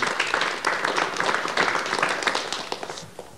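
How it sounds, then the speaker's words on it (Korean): A studio audience applauds to welcome guests on a 1988 KBS talk show, steady dense clapping at moderate level throughout, with no talk over it. "여러분 많은 박수로 환영해 주시면 대단히 고맙겠습니다."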